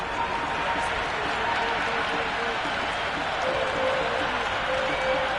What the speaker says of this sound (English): the crowd is still in full voice